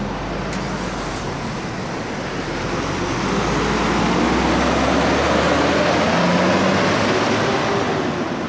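A tour bus engine rumbles near a roadside, blending with a broad wash of road traffic that swells louder halfway through.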